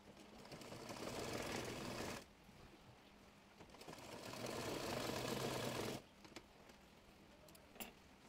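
A sewing machine stitches a churidar pajama, running in two steady whirring bursts of a couple of seconds each, separated by brief quieter pauses, with small ticks and clicks close by.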